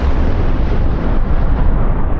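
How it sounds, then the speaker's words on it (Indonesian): Massive explosion of a machine on the moon's surface, a loud continuous roaring rumble with dense low-end blast energy sustained throughout, no voices present. "mesin tersebut meledak yang menyebabkan kehancuran besar di permukaan bulan"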